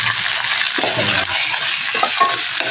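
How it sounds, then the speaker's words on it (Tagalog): Carrots and Chinese beans sautéing in a pan for a shrimp dish, a steady close sizzle and crackle with a scrape of stirring partway through, no voices. "sasautay natin yan. Tapos, pagka nasautay na po natin yung ano, yung carrots na yan"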